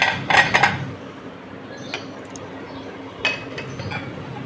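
Dishes clinking and rattling as they are stacked back into a display cabinet, a cluster of close clatters at the start and then a few sparse, lighter knocks.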